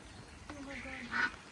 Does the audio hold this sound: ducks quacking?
yes